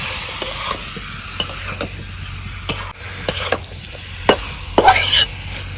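A village-style chicken curry with taro is stirred in a pan: sharp, irregular scrapes and clicks of the spoon against the metal ring out over a steady low background hum.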